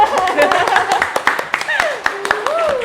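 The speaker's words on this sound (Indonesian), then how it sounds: "Tepuk tangan dong" A small group claps hands in a podcast studio, sharp and irregular claps close by, mixed with lively talking voices throughout.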